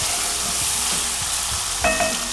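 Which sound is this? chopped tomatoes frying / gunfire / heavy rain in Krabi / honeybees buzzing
chopped tomatoes frying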